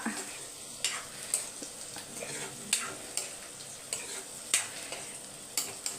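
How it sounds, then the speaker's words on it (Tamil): Food is stirred and sautéed with salt in a pan as part of a South Indian prawn and drumstick curry meal, with soft sizzling under regular scraping strokes of a spoon about once a second. "உப்பு சேர்த்து நல்லா மிக்ஸ் பண்ணி விட்டுட்டு வதங்கட்டும்"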